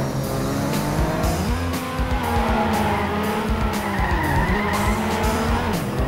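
Car tires skid and squeal through curves in the racing video game Trackmania Sunrise, with a steady engine drone and repeated sharp slides, loud and close, no talking.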